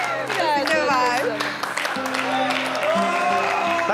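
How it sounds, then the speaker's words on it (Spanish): A studio audience applauds the couples on a Wild West-themed dating show, claps blending with cheers and tonal voices or music over the top, full and continuous for the whole stretch. "¡Aplauso para nuestras parejitas!"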